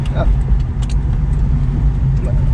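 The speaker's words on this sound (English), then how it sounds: "It's actually holding an idle right now" A 1973 AMC Pierre Cardin Javelin engine idles steadily after ten years off the road, a loud, low continuous rumble with a few light metallic clinks on top.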